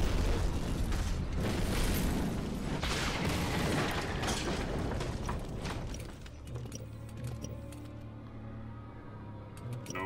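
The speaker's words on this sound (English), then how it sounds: "Oh, there goes a grenade." A grenade blast in a Star Wars: The Clone Wars battle against battle droids, a loud sustained rumbling boom with crackling debris over several seconds, trailing into a lower steady hum.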